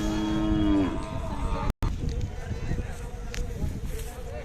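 A young native Khillar bull at a cattle fair lets out a loud, drawn-out moo near the start, followed by background bustle and people talking nearby.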